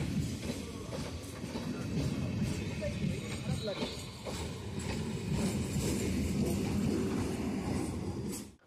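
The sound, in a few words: local train departing Majerhat station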